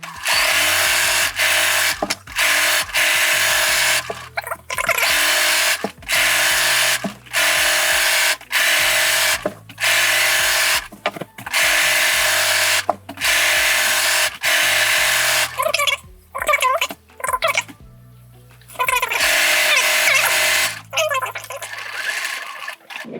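A sewing machine stitches a quilt along its sew line in loud close bursts of rapid mechanical whirring, stopping and restarting many times with short pauses between runs.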